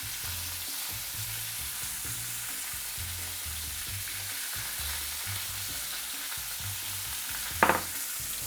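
Onion and finely chopped garlic frying in a pan, a steady close sizzle with low bubbling throughout and one brief sharp clink near the end.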